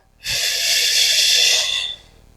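A long, steady breath exhaled during a Pilates roll-up exercise, a soft airy rush lasting under two seconds, close and alone with no talking.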